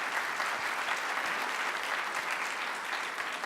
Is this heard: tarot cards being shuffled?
no